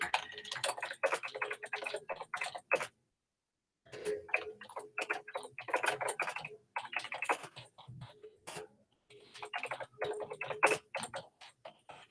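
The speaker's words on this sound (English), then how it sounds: "let me type something in the chat" Rapid keystrokes clatter on a computer keyboard in quick irregular bursts, close and fairly quiet, with one brief pause partway through.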